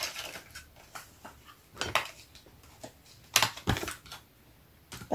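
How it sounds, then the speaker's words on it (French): Scissors cut the edges of a square of scrapbooking paper in a series of close, quiet snips and crisp paper crunches, with irregular sharp clicks and rustling in between. "je vais couper les bords parce que ça fait très très très mal"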